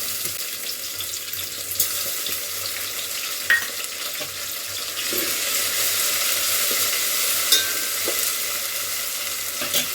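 Moong dal frying in a pan for upma, a steady soft sizzle with faint stirring scrapes throughout, close and alone with no talk.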